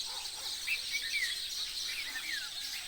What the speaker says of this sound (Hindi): ये मैं आपको आवाज़ें सुनाना चाहता हूँ इन चिड़ियों की जो यहाँ रात को आकर बैठती हैं और अब ये उठकर जा रही हैं.